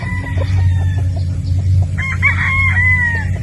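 A rooster of the Sweater breed crows once, loud and close, over a low steady hum, preceded by faint clucking.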